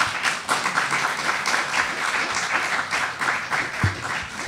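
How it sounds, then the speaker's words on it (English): A conference audience in Dublin claps, moderate and steady applause from a room of people, somewhat distant, with a faint voice near the end. "Evaluation form gets a round of applause."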